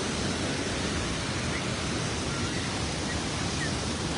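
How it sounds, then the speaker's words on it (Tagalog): Waterfall at Geiranger, Norway, a steady dense roar of rushing, falling water that fills the clip evenly from start to end, loud and close with no pauses. "Then I can show you the whole waterfall."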